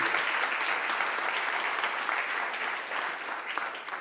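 Congregation applauding during a church baptism service, a sustained wash of many hands clapping at a distance, steady and fairly even throughout.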